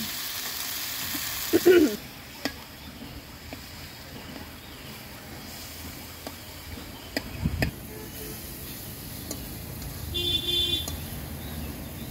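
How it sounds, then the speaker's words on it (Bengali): Giant freshwater prawns frying in a pan, a faint low sizzle with scattered clinks and a brief louder clatter early on, plus some distant background noise. "এটা এখন আমি এখানে ভাজা ভাজা করব।"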